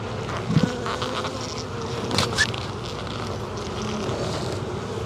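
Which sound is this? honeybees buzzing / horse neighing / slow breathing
honeybees buzzing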